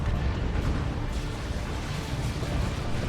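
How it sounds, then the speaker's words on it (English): A rocket run strikes in Dawn of War 2, a loud, continuous rumbling wash of blasts and debris that stays heavy and dense throughout. "That's a rocket run. Hits pretty well."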